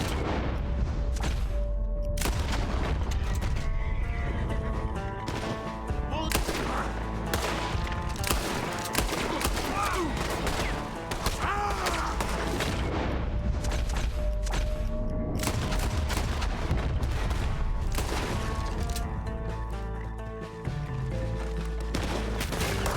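Gunfire in the Red Dead Redemption 2 video game, a loud sustained barrage of overlapping gunshots and rapid volleys with crashes and booms filling the whole stretch, no pauses.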